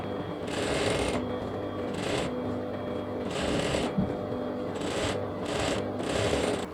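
A sewing machine stitching a long basting seam on a cotton nighty, running in several steady bursts with brief pauses between them, close and continuous at a moderate level.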